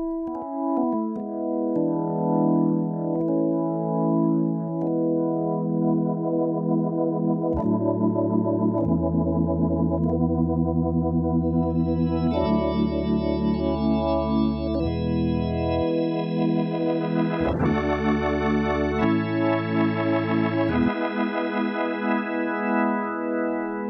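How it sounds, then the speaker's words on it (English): Electronic organ-like tone through a Neo Ventilator rotary speaker pedal with drive turned fully down, playing sustained chords that change every few seconds, clean and steady without speech. "Here's the sound of the Neo Ventilator."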